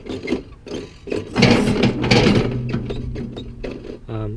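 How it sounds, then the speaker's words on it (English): The loose loader bucket on a John Deere 4105 tractor wiggles with a run of close, irregular metallic clunks and rattles. A voice speaks briefly near the end. "A lot of wiggling going on in that bucket"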